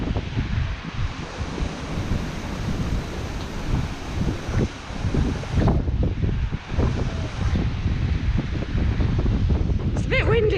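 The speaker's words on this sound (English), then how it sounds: "It's a bit windy up here." Gusty wind roars across the microphone in strong buffets, with a voice speaking intermittently underneath.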